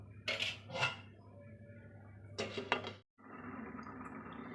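A lid is set on a pot of ridge gourd curry with lentil dumplings, making two bursts of metallic clanks and rattles, close and distinct, with a quiet simmering hiss afterward.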